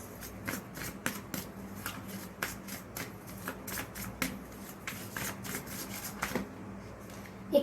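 Tarot cards are shuffled by hand in a quiet room, a run of soft, rapid riffling bursts repeating in an irregular rhythm, close and fairly faint.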